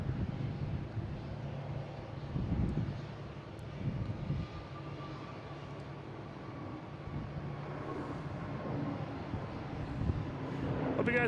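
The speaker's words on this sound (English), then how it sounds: "next taking off, we have Iberia heading to Madrid" Iberia Airbus A321neo airliner taking off from an airport, a steady broad jet-engine roar with wind rumble, sustained and fairly distant throughout.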